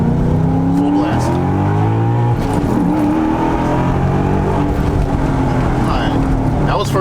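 An Audi S4 B7 pulls hard at full throttle from first into second gear, its engine wailing up to about 7,000 rpm. The loud, continuous roar rises in pitch, dips briefly at the shift, then climbs again.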